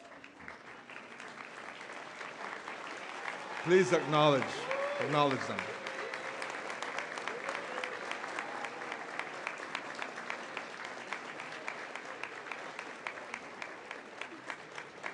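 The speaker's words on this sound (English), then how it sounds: "with a rousing round of applause" Sustained applause from families and friends at a university induction-to-the-profession ceremony, a steady dense patter lasting throughout, with a voice speaking over it briefly near the start.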